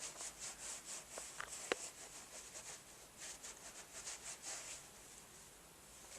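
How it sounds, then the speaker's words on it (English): A vintage mohair Steiff toy animal being rubbed clean by hand, making a steady, soft, close brushing and scrubbing rustle in rhythmic strokes, with one or two small clicks and no talking. "I'm going to rub him down here."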